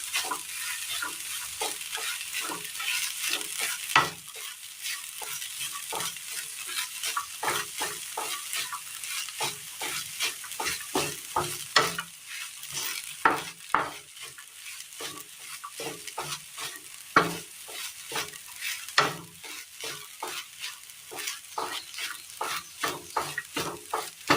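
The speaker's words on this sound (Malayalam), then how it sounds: "മിക്സ് ചെയ്ത് വെച്ചിരിക്കുന്ന സോയ ചങ്ക്സ് കൂടി ഇട്ട് കൊടുക്കാം. നന്നായി ഒന്ന് ഇളക്കി കൊടുക്കാം." A spoon stirs soya chunks through a sizzling frying pan for a Kerala-style dish, giving a steady run of close scrapes and clacks over a constant frying hiss, with no voices.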